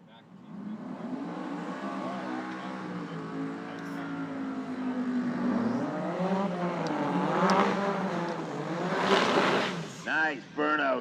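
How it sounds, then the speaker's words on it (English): A drag car does a burnout at a no-prep drag strip, its engine droning and then revving in wavering, climbing pitch sweeps that grow louder toward the end, close by, with a commentator talking over it. "Nice burnout."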